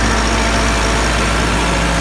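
A 2021 model 385 tractor engine runs at steady RPM, giving a loud, close, continuous low rumble with no voices.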